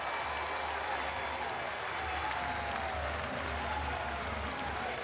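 A college baseball crowd at a Texas versus Kansas State game claps and cheers steadily as Texas takes the lead, a broad, continuous roar heard from a distance.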